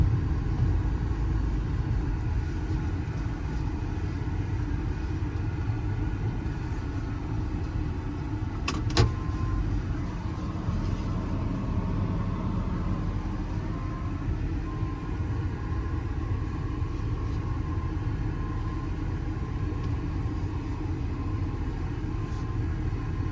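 Steady engine rumble and road noise from inside a moving 2015 Ford F550 crane truck with a mechanics bed, continuous throughout with a brief click partway.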